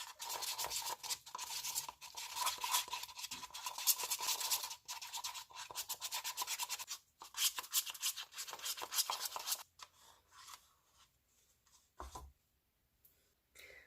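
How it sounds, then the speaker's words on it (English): Oil and soap colorant stirred in small cups for a cold process soap pour, a fast continuous scratchy scraping that runs for several seconds, then slows to sparse faint taps near the end. "I'm just going to stir them until everything in each of these cups is nice and combined."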